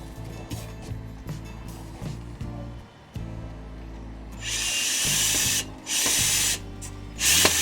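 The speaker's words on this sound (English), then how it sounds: "I'm now putting screws in from the other side" A power drill whirs in short bursts while driving screws into a hydroponic bench built to hold buckets of scoria, the motor's pitch rising and dropping between pauses, close and loud with a spray-like hiss in the later bursts.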